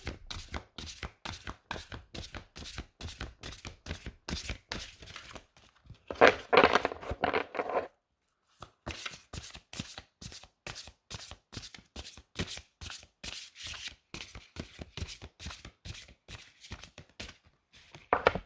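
Oracle cards shuffled steadily by hand for a reading, a close, rhythmic run of crisp riffling snaps that pauses briefly midway and then resumes, with no talking.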